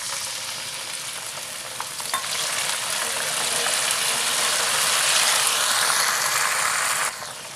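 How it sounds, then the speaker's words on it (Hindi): Onions fry in hot oil with black cardamom and two bay leaves, giving a steady, dense sizzle that swells slightly and then cuts off near the end, with no talking. "बड़ी इलायची, 2 तेज पत्ते ऐड कर लेते हैं प्याज में। प्याज के साथ फ्राई करेंगे।"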